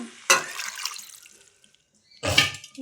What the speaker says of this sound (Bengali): জল দিয়ে দিলাম গ্যাস বাড়িয়ে দিলাম